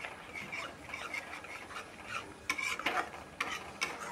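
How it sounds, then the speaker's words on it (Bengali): Spice masala stirred and fried in a kadai for aloo dum, a continuous soft sizzle with a ladle scraping the pan in irregular strokes, several sharper scrapes standing out toward the end. "এইভাবে একটু সময় নিয়ে ভালোভাবে কষাতে হবে, যাতে মশলার কাঁচা গন্ধটা পুরো চলে যায়"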